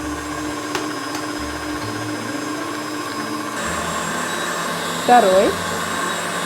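An electric mixer beats eggs into batter one at a time, giving a steady close whirring drone throughout, with a brief spoken word near the end.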